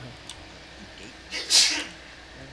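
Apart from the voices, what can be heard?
sneeze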